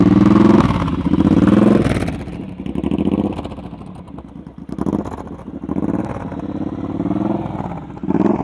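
A motorcycle ridden slowly through a practice course, its mid-pitched engine rising and falling with repeated throttle blips, close by and fairly loud throughout.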